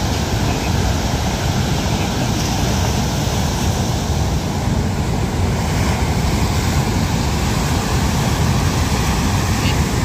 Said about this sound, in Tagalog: Grabing alon to, lalaki eh.